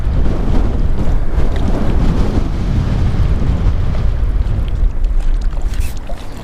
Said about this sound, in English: This wind is killing me right now.